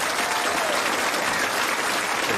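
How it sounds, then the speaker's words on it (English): Applause from upstairs at Graceland for Billy Smith, a steady wash of clapping that fills the whole short stretch with no break. "A little applause for you"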